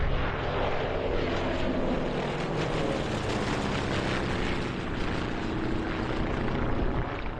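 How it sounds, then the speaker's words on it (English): Two Beech 18 propeller planes fly a two-ship formation pass at an air show, a loud, steady drone of piston engines and propellers filling the whole stretch without letup. "But this year saw something a little different, some two-ship formation passes with a second Beech 18."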